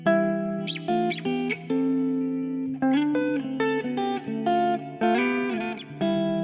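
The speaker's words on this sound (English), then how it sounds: "we're all familiar with the idea of like parallel sixths and parallel thirds" Distorted electric guitar plays parallel sixths, two-note harmonies moving together, a series of sustained chords changing every half second or so, loud and alone.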